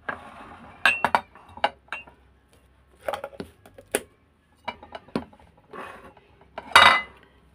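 Scattered clinks and clatters of a plate and utensils being set down for breadcrumbs while frying tamban fish, short sharp knocks spaced irregularly and close by.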